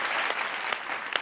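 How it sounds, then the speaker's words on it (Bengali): Studio audience applause on a Bengali family game show: a continuous wash of many hands clapping at moderate loudness, with a few sharper claps standing out, and no talking over it. "হাততালি হয়ে যাক।"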